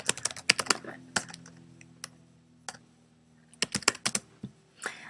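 Typing on a computer keyboard, with quick bursts of close, crisp key clicks that start, pause for a few quiet seconds with only scattered taps, then resume in another rapid burst.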